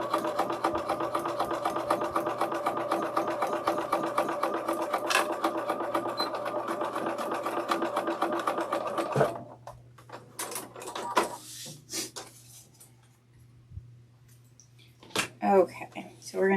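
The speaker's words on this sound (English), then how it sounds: "I do want to sew more on this machine." A sewing machine stitches a bag at a steady, rapid clatter for about nine seconds, close and loud, then stops. Quieter handling knocks and rustling follow.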